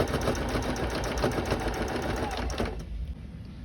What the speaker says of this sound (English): take and sew the waistband to the skirt where the good sides are together